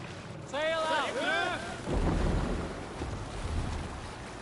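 A Viking longship cuts across open sea in Assassin's Creed Valhalla, with wind and rushing waves roaring steadily while a voice briefly calls out over the water noise.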